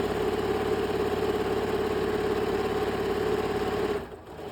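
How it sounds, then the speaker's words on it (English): Sewing machine running a steady, continuous stitch down the narrow side seam of a monogrammed tote bag, a close even mechanical whir that stops abruptly near the end. "So just make a small seam down the sides, not a true 1/4 inch."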